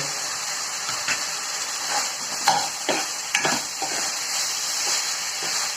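Boiled potatoes tipped into a hot pan and stirred while making Assamese-style mashed eggplant, giving a steady hiss with a few scraping stirs and soft thuds close by, no talking.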